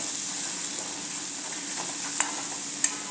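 Half a spoon of turmeric is stirred into a mixture frying in a pan: a soft, steady sizzle with occasional faint clicks of a spoon, close and quiet, no talking.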